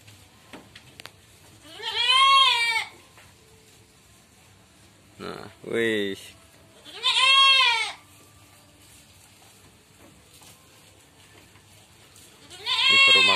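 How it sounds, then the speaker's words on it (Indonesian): Goats in a two-aisle pen bleat loudly and close, with three long wavering calls and one shorter cry spaced apart over quiet, feeding-time background, with brief murmured words from a person. "Sungguh asik kalau lihat kambing makan"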